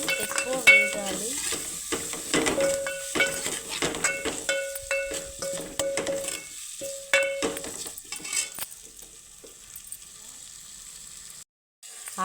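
Potato pieces frying in a pan, a soft continuous sizzle with intermittent stirring scrapes and light utensil clinks, close and moderately quiet, fading toward the end.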